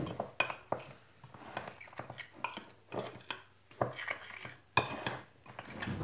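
A spoon scrapes and clinks against a bowl while flour and cocoa powder are stirred together for brownies, with irregular knocks and taps close up and a few sharper clanks.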